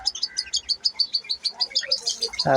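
Cockatiel chicks and adults in an aviary, a male feeding a young chick, giving rapid repeated high chirps and squeaky begging calls in a steady pulsing rhythm, close and fairly loud, ending in a louder harsh squawk.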